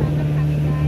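A boat crosses Lake Laut Tawar near Takengon, Aceh, on big waves, its motor giving a loud, steady low hum throughout with wind and water noise mixed in.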